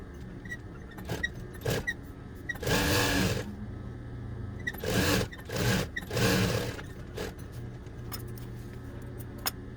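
A sewing machine stitches the seam of a fabric drawstring gift bag. Several bursts of rapid whirring run for about a second each, with short pauses and light handling clicks between them, close by and with no talk.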